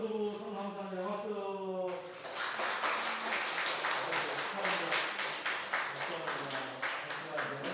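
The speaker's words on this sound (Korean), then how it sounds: "전도부 성남산에 박수." A church congregation bursts into a round of hand clapping right after someone speaks. The claps are close and rhythmic, and the applause holds steady to the end.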